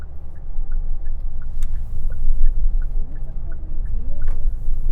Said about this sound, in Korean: 저속에서 출발할 때 들리는 엔진음만큼은 좀 막기 힘들었나 봅니다.